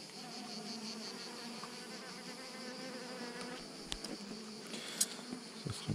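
Honeybees hum and buzz in a small swarm hive, a steady close droning with a few clicks and knocks near the end, no talking.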